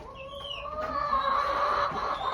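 Chickens cluck and murmur close by inside a coop in a steady, overlapping stream of low calls, with a faint higher chirp near the start.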